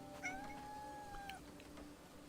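A cartoon cat in a video game meows while being petted: one drawn-out, rising meow lasting about a second, close and clear over a steady low background hum.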